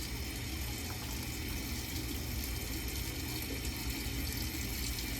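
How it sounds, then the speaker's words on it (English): Hands rinsed under a running tap: a steady, close wash of flowing water fills the whole stretch at even loudness, with no talking. "I'm going to rinse my hands starting from the wrist down, keeping my hands face down."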